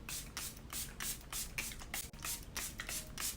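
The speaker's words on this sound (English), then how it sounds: "going to spray my face with setting spray" Milani Make It Last Matte Setting Spray misted onto a face in a series of short, close, hissing pump sprays that repeat at a steady rhythm, with no talking.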